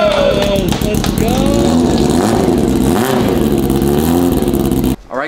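A Yamaha R6 motorcycle engine, swapped into a Raptor quad, runs loud and close, revving up and down in rising and falling sweeps before cutting off abruptly near the end.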